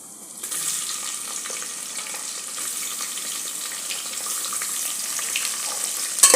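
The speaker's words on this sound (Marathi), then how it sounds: "दोन कांदे जे आपण चिरून ठेवले होते फोडणी करताना ते घालायचे" Chopped onions sizzle steadily in hot oil in a pressure cooker, a continuous crackling hiss that swells slightly toward the end, with no voices.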